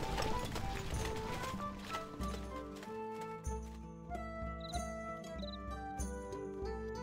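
Horses gallop with rapid rumbling hoofbeats in the medieval strategy video game Stronghold Legends, partly under orchestral game music with a faint jingle.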